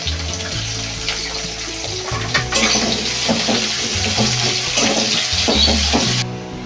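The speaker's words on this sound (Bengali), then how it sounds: "পেঁয়াজটা লাল লাল করে ভাজা হয়ে গেছে" Chopped onion and bay leaf fry in a pan until reddish brown, giving a continuous close sizzle and crackle with occasional stirring scrapes and a faint musical backing.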